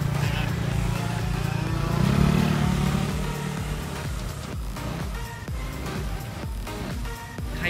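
Motorcycle engine revving and accelerating around a gymkhana course at a motor sport park, steady mid-pitched drone with rising and falling throttle, fairly near with faint background noise.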